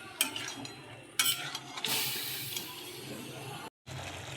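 Bottle gourd greens are stirred with mustard paste in a pan, giving soft scraping and stirring noises with a light sizzle, broken by a few louder clatters of the utensil against the pan.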